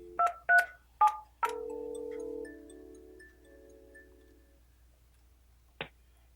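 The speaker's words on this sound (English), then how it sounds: "we'll hit the transfer key and dial the extension we'd like to send it to." Keypad tones beep as an extension is dialed on an Alcatel-Lucent ALE-400 desk phone, four short close presses followed by a sustained ringback-like tone fading out, then one faint click.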